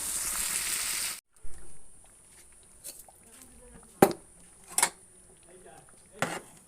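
Spice paste goes into a pot of simmering broken-wheat khichdi, a loud burst of sizzle that cuts off abruptly, followed by quieter scattered clinks and knocks of a spoon against the pot.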